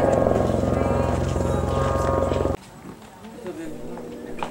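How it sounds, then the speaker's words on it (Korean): Light aircraft propellers spin at a small airfield for sightseeing tours in the western United States, making a loud, steady droning roar that cuts off abruptly partway through, with someone narrating over it. "경비행기의 프로펠러 돌아가는 소리가 요란하다."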